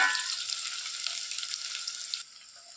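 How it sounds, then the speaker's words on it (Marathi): Whole spices and curry leaves sizzle loudly in 3 to 4 ladles of hot oil for a pulao, a steady bright crackle that eases slightly near the end, with no voices. "3 ते 4 पळ्या तेल टाकले मी। आता टाकत आहे खडे मसाले,"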